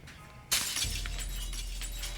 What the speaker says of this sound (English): Let's pick up this glass and then remove the broken glass